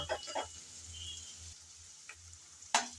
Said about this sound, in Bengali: চুলায় আমি কিছুটা পরিমাণ তেল দিয়ে তাতে পেঁয়াজ কুচি দিয়ে দিলাম